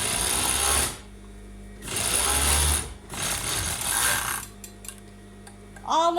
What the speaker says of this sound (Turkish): Evet, şimdi diğer ağımı dikiyorum.